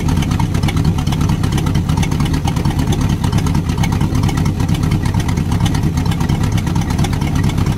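A 318 engine runs on a stand, a continuous close, rough-edged drone with a slightly loping pulse that holds fairly even throughout, with no voices.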